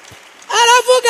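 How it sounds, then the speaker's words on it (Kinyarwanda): A church congregation bursts into loud, dense clapping after a quiet moment, with voices mixed into the applause. "dukomere Imana amashyi"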